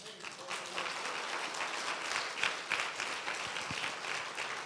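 Applause from a church congregation during a Spanish-language sermon, a dense, steady wash of many hands clapping that holds at an even level throughout, with no voices standing out.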